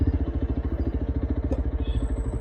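A dream motorcycle being ridden around Beed, with its engine close by, giving a steady, rapid thumping throb and a few light clatters over about two and a half seconds.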